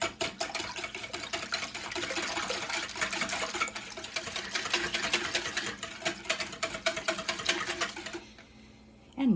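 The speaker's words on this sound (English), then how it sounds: "we are going to whisk these wet ingredients together" Whisk beating wet pancake ingredients for whey and Greek yogurt pancakes in a bowl, a fast, continuous rattling clatter close up that stops near the end.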